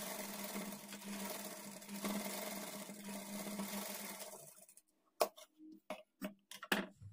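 Sewing machine stitching an edging along a lining blouse, a steady whirring run that stops, followed by a few sharp separate clicks and knocks in a quiet room.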